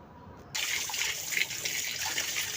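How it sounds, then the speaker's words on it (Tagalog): Kitchen tap running steadily into a sink for dish washing, starting abruptly after a brief quiet moment and continuing as a close, even gush with no talking. "maghuhugas naman ako ng aking pinagkainan"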